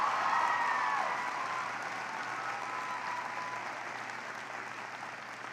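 An audience applauding the Green Valley High School marching band, sustained dense clapping from a large crowd that gradually fades, heard at a moderate distance with no clear talk.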